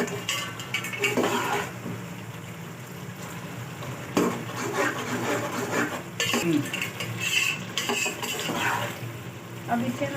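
Spinach and beef for shalgam palak gosht fry in a pot, a steady soft sizzle broken by repeated scraping and clinking of a metal spoon stirring against the pot, close up with no talk.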